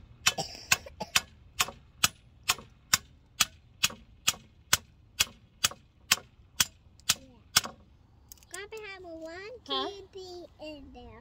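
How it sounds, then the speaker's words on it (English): Hammer drives a stake into the ground for a compost bin: about sixteen sharp, evenly spaced metallic strikes, loud and close. Voices and a child's chatter follow once the pounding stops. "use my hammer. Get it down in here enough. It's kind of loud."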